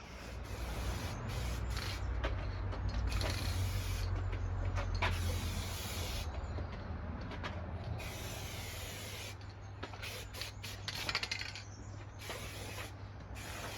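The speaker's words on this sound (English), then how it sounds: "Don't need to worry too much about overspray with this stuff. It sort of dries as soon as it hits the air." Black aerosol spray paint hissing steadily onto a Suzuki Bandit 1200 motorcycle part during a restoration, a continuous close hiss with brief pauses between bursts.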